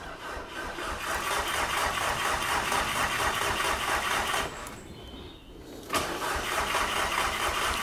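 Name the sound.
car engine cranking and starting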